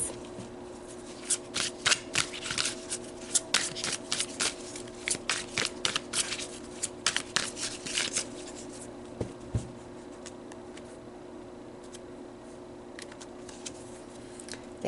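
Oracle cards shuffle in a string of quick, crisp riffling bursts, near and fairly quiet, then fade to a faint steady hum.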